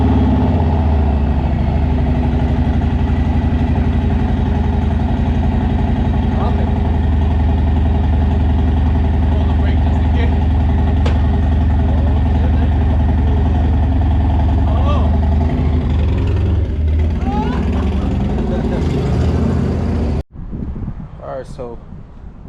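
A 2020 Harley-Davidson Low Rider S with a Milwaukee-Eight engine and a chain-drive conversion runs with a steady, throbbing rumble mixed with wind buffeting, then cuts off abruptly near the end.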